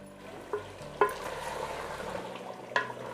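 A spoon stirs thick masala for chicken korma in a pan over medium heat, with soft scraping strokes, three sharper clinks against the metal, and a low sizzle continuing underneath.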